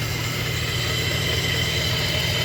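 A 1995 Nissan Pathfinder engine idles steadily up close, a continuous low rumble with a constant hum and no talking.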